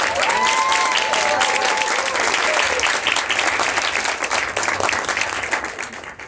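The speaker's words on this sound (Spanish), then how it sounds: "Un fuerte aplauso para Manuel David." Audience applause at a karaoke contest during a Japan festival in Mexico City, a loud dense crowd clapping steadily and fading slightly toward the end.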